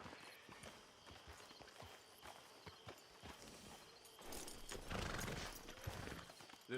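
Horse hooves clip-clopping at a walk in Red Dead Redemption Online, a steady rhythmic clatter of footfalls with ambient game sounds that swell louder near the end.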